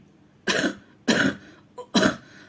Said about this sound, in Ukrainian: душив кашель